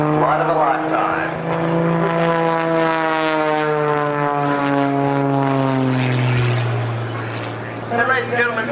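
An Edge aerobatic propeller plane performs at the Tyabb Airshow, its loud, steady engine drone rising and falling in pitch as it passes, with a commentator's voice running over it.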